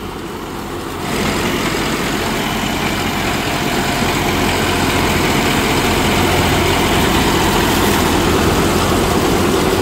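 A John Deere 5405 tractor working slowly in creeper gear with a GS Rhinoceros Series V rotary tiller, its engine thrumming in a loud, steady low drone that swells just after the start and then holds constant, no speech.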